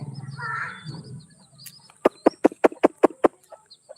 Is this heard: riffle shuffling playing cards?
no